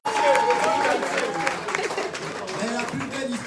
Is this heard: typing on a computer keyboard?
no